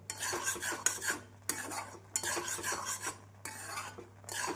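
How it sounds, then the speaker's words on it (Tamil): Badam halwa with milk is stirred in a pan over a medium flame, rhythmic bursts of spoon scraping against metal in repeated strokes with brief pauses, close and clear, no talk. "நாம் அடுப்பை மீடியம் ஃப்ளேமில் வைத்து கிளற வேண்டும்"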